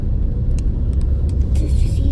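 A truck engine rumbles steadily from inside the cab on a bumpy road, with occasional knocks and rattles from the ride, and voices are faintly heard.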